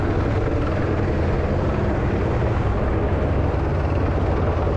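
A police helicopter in the video game GTA drones loudly and steadily throughout, a dense, unbroken whirring roar with no voices.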